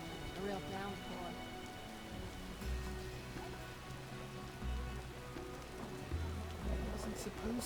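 Steady heavy rain in The Witcher video game hisses throughout, with low rumbling swells underneath and faint game tones in the background.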